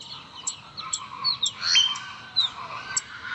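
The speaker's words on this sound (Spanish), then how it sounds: "Los chipes emiten silbidos finos." A flock of warblers gives several thin, high whistles and chirps in scattered bursts, some overlapping, against a quiet background.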